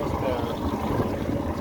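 A Mercury XR 40 hp two-stroke outboard motor idles, a continuous low burbling churn with steady loudness, close by, with wind noise mixed in.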